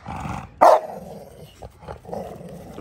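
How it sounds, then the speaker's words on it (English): A thick, heavy-set bull dog during breeding with a female gives a sharp, loud bark-like burst, followed by low growls and grumbling snorts close by, with no talking. "See too many dogs growling while they're trying to do breeding"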